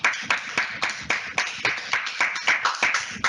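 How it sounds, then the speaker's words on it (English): Webinar participants give a big round of applause at the close of an education-policy session, heard as steady, evenly spaced claps, about a dozen in quick rhythm, close and clear with no talking over them. "A big clap for everybody."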